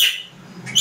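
A man imitates a bird call with his voice, two brief high chirping whistles at the start and end of a short moment, close and fairly loud.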